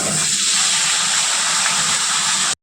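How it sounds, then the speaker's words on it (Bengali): Potatoes frying in oil left over from frying fish: a loud, dense, continuous sizzle close by that holds steady, then cuts out abruptly for a moment near the end. "এই যে মাছ ভাজা তেল, ওর মধ্যে আমি আলু কয়টা ভেজে নেবো।"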